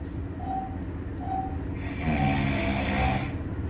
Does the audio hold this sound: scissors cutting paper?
no